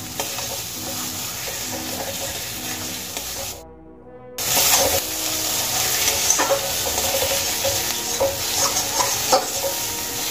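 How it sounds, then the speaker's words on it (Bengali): Yardlong beans and fried onions sizzle and hiss in a pan, close and steady, with a brief drop in the sizzle partway through and bursts of stirring scrapes afterward. "এবার আমি আরো কিছুক্ষণ ভেজে নেব"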